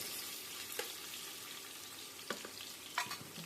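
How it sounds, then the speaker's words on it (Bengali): Onions frying in a pan with green chilies, a steady soft sizzle throughout broken by a few sharp clinks of a spatula stirring, close and fairly quiet with no talk. "পেঁয়াজটা ভেজে নেওয়া হয়ে যাবে"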